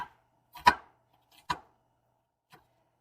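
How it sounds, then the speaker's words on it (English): An onion cut with a knife on a board, three distinct chopping thuds spaced about a second apart followed by a fainter fourth tap, close and otherwise quiet with no talking. "So we are going to cut up our onion"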